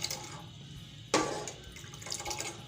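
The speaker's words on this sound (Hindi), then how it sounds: "अब मैं इसके अंदर पानी डालूंगी, ठंडा पानी 3 कप, ठंडा पानी" Cold water poured into a pot while making Kashmiri chai, a sudden gush of splashing liquid that tapers into softer trickling and drips, close and quiet otherwise.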